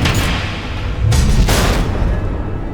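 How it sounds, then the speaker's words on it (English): Missiles exploding in Batman: The Enemy Within, two close, loud booming blasts in quick succession over a low rumbling background, with no voices. "The missiles."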